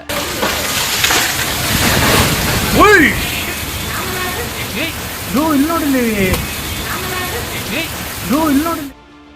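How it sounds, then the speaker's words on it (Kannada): Steady heavy rain in Bengaluru hisses beneath a voice as he talks over it continuously, with rainwater flowing along the road. "ಮಳೆಯಿಂದಾಗಿ ಏನು ರಸ್ತೆ ಮೇಲೆ ನೀರು ಕೂಡ ಹರಿತಾ ಇದೆ"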